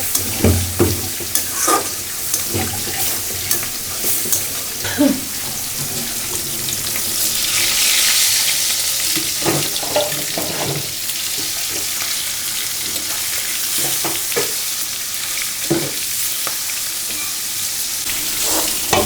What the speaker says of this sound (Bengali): এখানে চিংড়ি মাছ মশলাটা দিয়ে কষানো হয়েছে